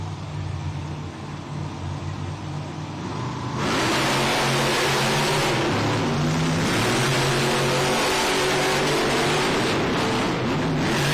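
Monster truck engines at a Monster Jam arena event in Fresno, California, surge from a steady idle into a sustained, very loud full-throttle roar at the race start, sounding close and dense with no talking.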